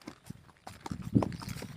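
Horse hooves clip-clop in a quick, uneven rhythm during a horseback ride in La Ladera, Guanajuato, close and fairly loud with no talk over them.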